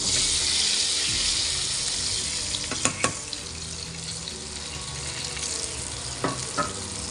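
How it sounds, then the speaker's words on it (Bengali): Potatoes and soybean chunks fry with spices and cumin powder in a pan, giving a steady broad sizzle throughout, with a few sharp utensil clinks partway through. "মশলার সাথে ভালো করে সয়াবিন আর আলুগুলো কষিয়ে নেব।"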